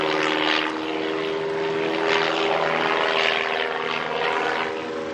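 A 360-horsepower propeller aerobatic plane drones loudly and steadily overhead at an airshow at Wroughton Airfield, its engine note wavering slightly as it maneuvers, with no voices.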